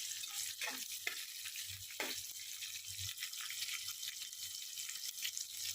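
Green chillies frying in a pan, a faint steady sizzle with a few soft clinks and scrapes of stirring, no talking.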